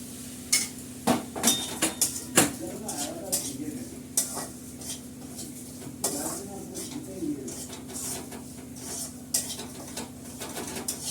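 Bottle gourd is stir-dried in a pan with no added water, a soft sizzle under repeated scraping and clattering of a spatula against the metal, with faint birdsong in the background.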